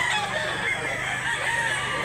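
Chickens and a rooster at a busy chicken market in Mantalungon, Cebu, keep up a dense, steady mix of clucking and crowing nearby, with general crowd noise in the background.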